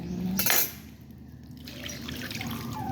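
Coconut milk pours into a pot of small crabs and squash, a brief liquid splash and gurgle near the start, then a soft simmering bubble with light clinks of pot and utensil.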